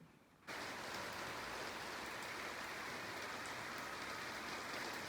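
Light, gentle rain falls steadily outdoors after two days of wet weather, a constant even hiss of drops close by that begins abruptly and continues without any voices.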